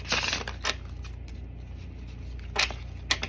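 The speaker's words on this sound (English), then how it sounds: "I can't really shuffle this whole deck, so that's why I kind of do the side thing." A tarot deck shuffled by hand from the side, soft papery riffles and card slides in short bursts, close and quiet with no talking.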